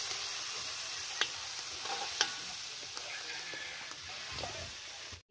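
Food frying and being stirred in a pan while cooking ginataan for a birthday gathering, a continuous sizzle with occasional scraping clinks of a utensil.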